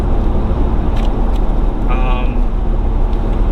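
Ford F350 Powerstroke diesel pickup towing a load up a steep grade in sixth gear around 1,500 RPM, a loud steady low engine and road drone under the driver's talking.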